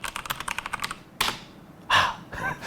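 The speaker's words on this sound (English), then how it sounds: "I love the sound of truly mechanical keys." Rapid keystrokes on an RGB mechanical gaming keyboard form a quick clicky burst, then a few louder, slower key presses and clacks follow, close and clear with no talk.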